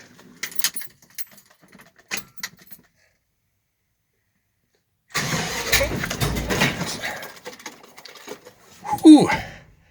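A rebuilt 357 small-block Chevy V8 in a 1970 Chevrolet C20 pickup on its first startup: a few faint clicks, then the engine cranks and roars to life for about four seconds before cutting off, followed by a brief exclaiming voice.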